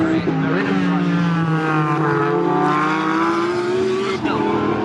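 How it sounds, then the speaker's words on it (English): Race cars at Snetterton during a British Endurance Championship race scream past flat out, loud high-pitched engine notes sweeping down in pitch as they pass close by, with commentary voices over the top. "We get to see these cars screaming by the flat chat."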